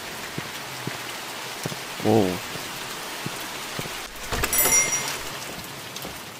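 Steady rain falls through the night in a horror game set around a haunted morgue, a continuous even patter broken by a short voiced exclamation and a brief burst of other game sounds.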